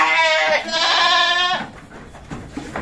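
A Jawa Randu goat gives a loud, close, wavering bleat lasting over a second, followed by quieter rustling and faint background sounds.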